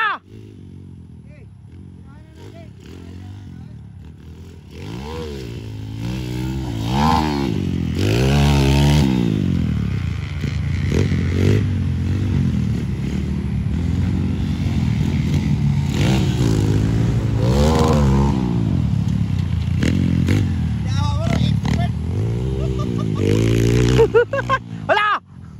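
A motorcycle engine revs and rumbles steadily up close, its pitch rising and falling, with people talking over it throughout.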